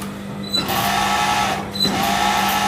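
A sewing machine stitches a garment in a tailoring workshop, running in two steady motorized bursts with a brief pause between them, close and fairly loud with no talk over it.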